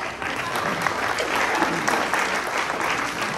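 A crowd at a Rotary meeting in a yacht club applauds steadily, dense clapping filling the room at a fairly even level throughout.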